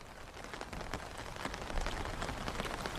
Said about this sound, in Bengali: বৃষ্টি একটুও কমার নাম নিচ্ছে না,